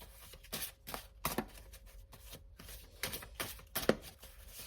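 Tarot cards shuffled and drawn, soft riffling bursts and quick papery slaps in short irregular clusters, close and fairly quiet with no talk over them.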